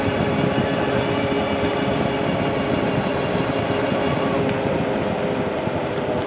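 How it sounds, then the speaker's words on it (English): A Wallke H7 Ultra RWD electric scooter riding on throttle, heard as a loud, steady roar of wind and road noise with a constant whine and no breaks, with no talking. "I'm going to turn on the throttle"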